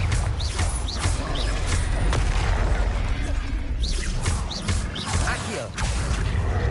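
Spells fire off in Hogwarts Legacy combat: rapid whooshes, magical bursts and impact booms layered over dense game action, with a voice calling out over the effects.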